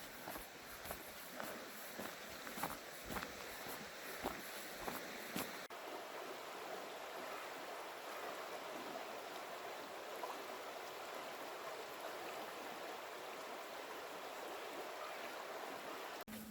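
A river flows with steady broadband rushing water under cold, fresh outdoor air near an old hill fort. Footsteps crunch rhythmically for the first few seconds, then fade, leaving the continuous moderate stream sound alone.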